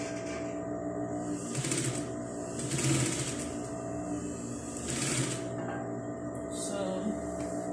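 A sewing machine stitches a flare dress with a steady close mechanical whir and rapid needle clatter, swelling slightly in a few bursts, with no talk over it.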